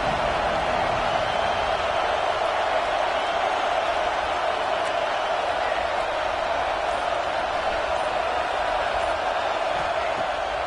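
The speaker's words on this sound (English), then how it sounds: "Here comes the noise from this big crowd in Happy Valley on third down" Big college football stadium crowd at Happy Valley on third down, a steady, dense roar of many voices held at constant loudness throughout, distant and enveloping.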